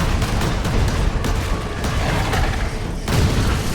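A bomb squig blows up in the Warhammer 40,000 Space Marine game, with loud booming blasts in thick, continuous battle noise and gunfire that barely lets up for several seconds.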